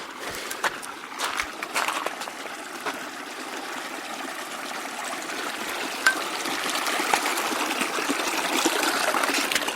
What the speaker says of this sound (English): I have to cross the creek.